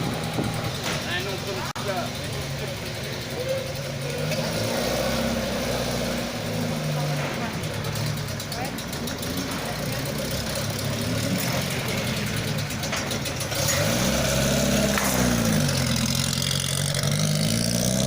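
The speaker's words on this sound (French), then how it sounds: "Arrive devant nous la Ford Sierra numéro 301, donc la Sierra Cosworth de Michel Béziat et Guillaume Ancelin." Ford Sierra Cosworth rally car number 301 arriving at a stage, its engine droning and revving with shifting pitch, rising louder near the end, under continuous commentary from a voice.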